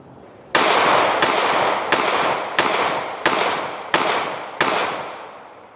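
Seven sharp gunshots from a Canik METE MC9 micro 9mm pistol firing Fiocchi 124-grain XTP jacketed hollow points, loud close cracks spaced evenly about two-thirds of a second apart, each with a short decaying tail.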